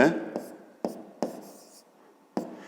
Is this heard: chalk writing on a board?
yes